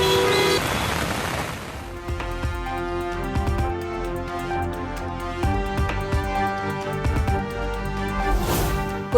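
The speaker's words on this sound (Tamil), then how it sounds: "சாலைகளில் மழைநீர் பெருக்கெடுத்து ஓடியதால் ஊர்ந்து சென்ற வாகனங்கள்." Traffic crawls along rain-flooded roads in Secunderabad at night, with engines rumbling and car horns tooting repeatedly in a busy, continuous street din.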